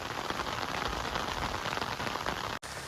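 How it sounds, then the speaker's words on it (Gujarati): Steady heavy monsoon rain pours down on a farm in a dense, even hiss, close and continuous, with a very brief dropout near the end. "વરસાદ તો સારો એવો આવી ગયો અને હજી ચાલુ જ છે"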